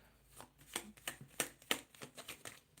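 A deck of tarot cards is shuffled during a live reading, giving a quick series of crisp riffling snaps and soft slaps in an irregular rhythm, close and fairly quiet, with no talking.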